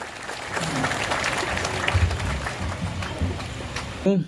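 Audience applause greets the Governor of Riau at the inauguration of the Basma Darul Ilmi wa Sa'adah pesantren. It is a steady, dense crowd clapping throughout, with voices mixed in and a brief louder voice near the end.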